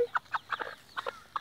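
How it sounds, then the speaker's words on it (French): A small black hen clucks in short bursts, about eight quick, close clucks in uneven clusters with brief pauses, fairly quiet and heard alone in an outdoor permaculture garden. "c'est juste pour vous montrer une petite poule"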